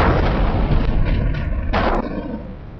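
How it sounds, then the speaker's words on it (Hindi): A blast sound effect: a loud, dense burst of noise that holds for a few seconds with a sharp secondary crack near the end before tapering off. "इस बार माहिम कॉस्वे से ब्लास्ट की खबर थी।"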